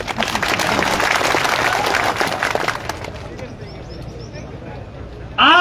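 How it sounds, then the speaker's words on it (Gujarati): Political rally crowd in Banaskantha breaks into loud, sustained applause that thins out toward the end, followed by an abrupt burst of noise at the very end. "આમાં તાળી પડવી જોઈએ."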